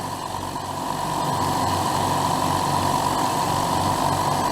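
An air compressor runs continuously close by, a steady mechanical drone with a rhythmic low pulsing that builds slightly at first and then holds level.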